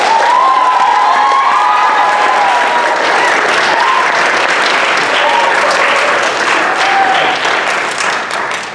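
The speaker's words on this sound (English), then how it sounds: "one more big round of applause for everyone at the Sheriff's Department and also for our fifth graders." A large audience claps loudly at a fifth-grade DARE graduation ceremony honoring the students and the Sheriff's Department, dense sustained applause mixed with cheering and children's shouts, filling the room and tapering slightly at the end.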